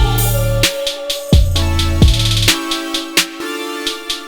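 A produced hip-hop beat plays back with deep 808 bass notes under bright synth chords and crisp percussion hits in a steady rhythm. It is loud and full, with no talking.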